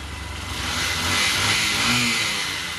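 A motorbike engine revs steadily as it is ridden, a loud, close, continuous mid-pitched drone that swells and eases slightly over a few seconds, with no talking.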